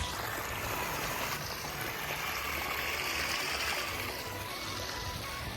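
Water runs steadily into a rice paddy in a village, a constant rushing wash with no breaks, moderately faint and even throughout.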